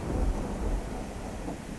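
Heavy rain falls steadily under a deep, continuous rumble of thunder, loud and enveloping, with no voices.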